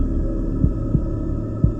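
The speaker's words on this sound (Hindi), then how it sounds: "दिल की धड़कन इतनी तेज थी कि कानों में गूंज रही थी।" Heartbeat sound effect for a horror story set in a haunted library: three deep, thudding beats spaced unevenly over a steady low hum, fairly loud and close, with no voices.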